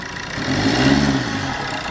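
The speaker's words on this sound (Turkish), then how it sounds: "Araç çalıştıktan sonra gaz vermeyin arkadaşlar. Rolanti de bir bu şekilde çalışsın." A 2010 Fiat Linea's engine idles steadily after starting, a close, continuous low hum that runs loud and unbroken throughout with a faint rise midway, and no voices.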